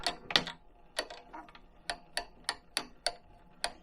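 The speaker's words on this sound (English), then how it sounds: "So when you come up, see, it'll click back down." Weighted handle on a tabletop milk cream separator clicks repeatedly as it spins below proper speed, sharp ticks in a steady mechanical rhythm, close and fairly quiet.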